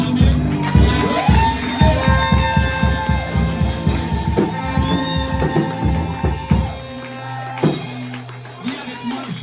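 Church seminar congregation cheering and acclaiming together, a loud sustained crowd roar with shouts and rhythmic claps, swelling and fading across the whole stretch.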